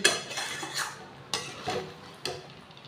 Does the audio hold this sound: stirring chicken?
yes